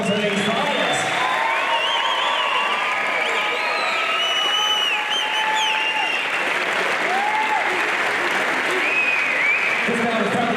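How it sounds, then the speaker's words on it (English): A crowd applauding and cheering the fighters after a WBC Muay Thai world title bout, loud continuous clapping with whoops and shouts, while an announcer talks over it. "let's hear another big round of applause for these fighters"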